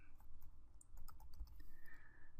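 Quick light typing on a computer keyboard into a start menu search box, a short burst of soft clicky keystrokes over a low background hum, fairly faint.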